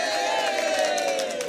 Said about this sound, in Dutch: Applaus voor hem zelf!